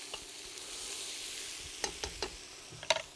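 Vegetables for a cioppino stock sizzle and caramelize in a pot, making a quiet, steady hiss broken by a few sharp clicks and scrapes from stirring.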